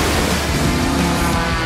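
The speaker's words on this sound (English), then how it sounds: "On a stormy ocean, we tame every single wave." Rough, steady wash of stormy ocean surf and wind-driven spray, loud and continuous with no pauses, around a racing powerboat on open water.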